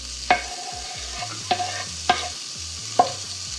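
Thin discs of garlic and sliced onion fry in a pan with a low constant sizzle, punctuated by four crisp stirring clacks spaced about a second apart, close up with no voices.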